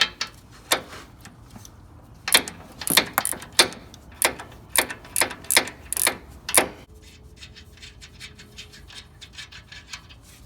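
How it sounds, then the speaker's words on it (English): A ratcheting 15mm socket on extensions works loose the exhaust header nuts of a 2014+ Silverado, giving a series of sharp close clicks in irregular bursts, then a softer, quicker run of ticks. "we're going to use our 15mm socket and some extensions to get these loose"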